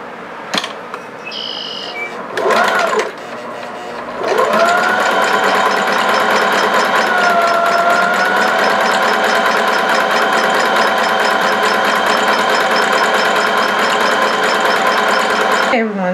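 A sewing machine rolls and stitches a fabric hem, starting with a few short bursts and handling clicks, then running in a steady, fast mechanical whir for a long stretch, close up; a person talks nearby.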